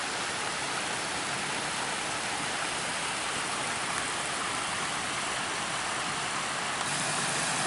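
Stream water cascading steadily over smooth rock on a spring hike in a nature reserve, a dense, continuous rushing wash heard close and alone.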